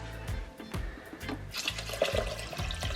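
Vegetable stock and water being poured into an Instant Pot, a continuous splashing, gurgling stream with rhythmic glugs from the container, heard alone and fairly close.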